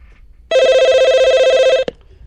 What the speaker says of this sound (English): Hold on, let me check the phone.